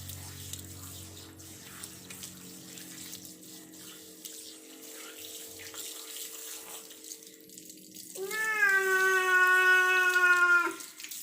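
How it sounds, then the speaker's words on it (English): Tap water splashes and runs steadily as a cat is rinsed during a bath in Malaysia; the flow is close and continuous, and a loud drawn-out tonal whine joins it over the last few seconds. "so I'm going to rinse him off."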